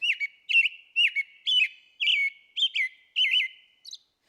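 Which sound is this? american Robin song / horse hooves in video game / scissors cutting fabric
american Robin song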